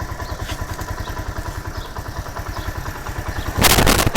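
A motorcycle engine idles close by with a fast, even thumping pulse, then surges into a louder, rougher rev near the end.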